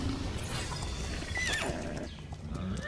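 A horse in the survival game Ark whinnies loudly with a rising and falling neigh, while steady hoofbeats clop underneath throughout.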